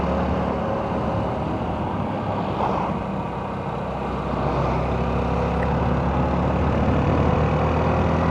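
Low, steady rumble of a truck engine belching black smoke, heard from a motorbike riding in the countryside outside Hua Hin, Thailand, continuous and loud.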